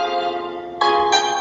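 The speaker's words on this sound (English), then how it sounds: "I think that's my phone." A mobile phone rings with a bright, bell-like electronic tone in two short bursts, starting partway through and steady, with no talk over it.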